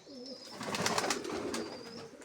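Pigeons coo softly in short, rounded, throaty calls, close by and quiet, with a faint thin whistle in the background and no speech.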